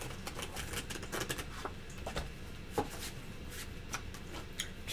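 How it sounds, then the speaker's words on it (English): A tarot card deck is riffled and shuffled in the hands, giving quick soft papery flutters and taps, close and fairly quiet, without any talking. "this deck is so nice to shuffle"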